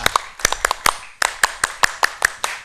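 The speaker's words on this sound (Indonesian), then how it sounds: "tepuk Pramuka lebih dulu ya." A group does a Pramuka scout rhythmic clap at an anniversary gathering of the Indonesian scout movement, a dozen sharp, close hand claps in a patterned beat with a short pause midway, heard alone.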